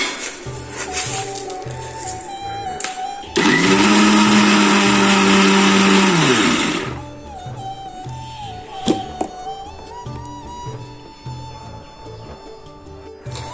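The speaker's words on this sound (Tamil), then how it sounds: "இந்த நவாப்பழத்தை மிக்சியில் போட்டு நல்லா அரைச்சி எடுத்துக்கலாம்" A kitchen blender grinds jamun fruit loudly for about three seconds, its motor whining steadily, with quieter mechanical humming before and after.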